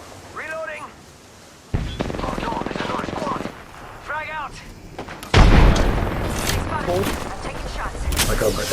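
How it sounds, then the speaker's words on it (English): Gunfire in Apex Legends, bursts of shots mixed with heavy rumbling combat noise, with a loud impact midway, and short chirping game cues scattered throughout. "Opening fire."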